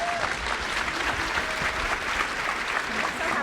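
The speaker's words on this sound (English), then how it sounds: "Please give a big round of applause for Dr." Audience applause for a keynote speaker at a summit, a full room clapping steadily and loudly for several seconds, with a faint voice or two mixed into the crowd noise.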